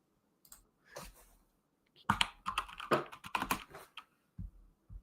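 Computer keyboard typing, close and quiet, with a few scattered clicks followed by a quick burst of rapid keystrokes and some final taps.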